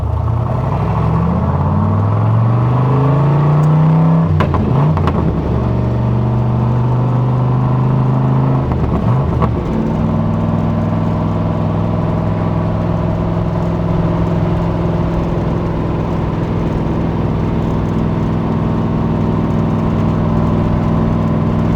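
A 1967 Corvette L89 engine revs and pulls away, rising tones through early gear changes, then settles into a steady loud cruising drone heard from inside the car.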